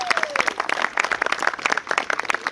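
Wedding guests clap for the two mums serving as ring bearers at a ceremony, a dense, steady round of applause at close range with a brief tone sweeping through at the start.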